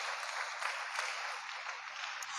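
Applause from a congregation during a church worship service, a steady broadband patter of many hands held at moderate level for the whole stretch, somewhat distant and roomy.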